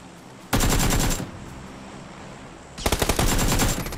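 Two loud, close bursts of rapid automatic gunfire in PUBG on console, each lasting about half a second, separated by a quieter stretch.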